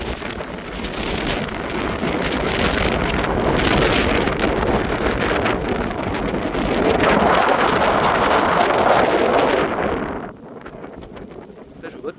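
Strong wind gusts from storm Herminia buffet the microphone in a loud, continuous roar for about ten seconds, then drop suddenly to a quieter background rush.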